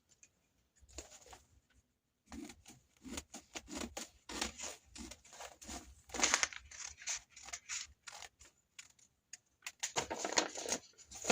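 Scissors snip through fabric while a cape gown is cut out, a close series of crisp, rhythmic cuts in quick bursts separated by short pauses, fairly quiet with no speech.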